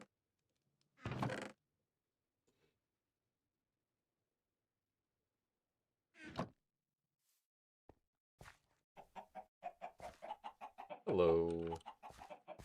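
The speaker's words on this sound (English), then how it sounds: "let's toss the chickens in there" Chickens cluck in a modded Minecraft game, a couple of short isolated clucks followed by a busier run of clucking near the end, with a brief spoken word from a person mixed in.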